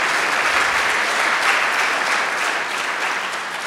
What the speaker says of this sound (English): give our guest one last round of applause